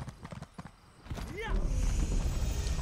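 Horse hooves clip-clop in the video game Elder Scrolls Online, the rhythmic hoofbeats starting after a brief whinny-like call and settling into a steady trot under some speech.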